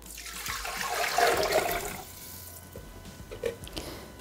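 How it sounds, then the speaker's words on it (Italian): Water pouring into the Thermomix (Bimby) mixing bowl, a rushing splash that swells over the first two seconds and then settles into quieter trickling with a few small drips near the end. "Senza lavare il boccale, mettere l'acqua"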